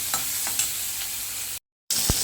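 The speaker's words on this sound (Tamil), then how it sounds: "தேவைக்கேற்ப உப்பு எல்லாம் போட்டு வதக்கிக்குவேன்" Onions sizzling with salt as they sauté in a pan, a steady close frying hiss with a few soft stirring scrapes, briefly cut to silence before resuming.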